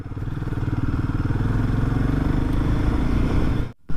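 Royal Enfield Himalayan motorcycle on a mountain road, its single-cylinder engine thumping steadily and close up for several seconds before cutting off abruptly near the end.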